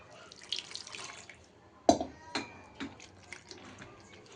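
Water is poured in while making sweet-shop style motichoor laddu: a soft running trickle, then a sharp splash and a few fainter drips and splashes, close by with no talk.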